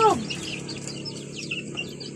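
A hen clucks softly and repeatedly close by, with faint background chatter and birds in the distance.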